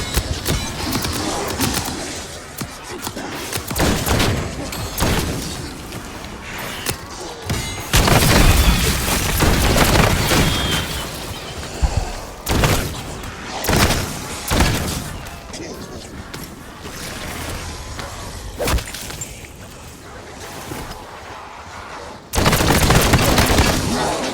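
An incendiary strike and gunfire in Black Ops 6 Zombies on Liberty Falls, with dense booming explosions, bursts of shots and crackling fire, loud and continuous with brief lulls, and game voices mixed in.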